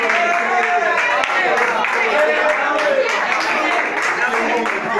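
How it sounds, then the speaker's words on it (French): An audience claps steadily at an event in response to a host's request, a dense continuous patter of many hands, fairly close and sustained throughout. "est-ce que vous pouvez applaudir pour les autres?"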